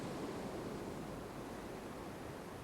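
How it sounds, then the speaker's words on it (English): Sea waves break on the shore at a fishing spot, a steady, broad wash of surf that holds constant throughout with no voices. "just wait for this wave, here we go"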